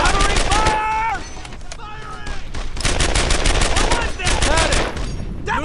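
Rapid bursts of gunfire in the World War II shooter game Brothers In Arms: Earned In Blood, loud repeated automatic volleys and single shots, with soldiers' voices shouting between and over the firing.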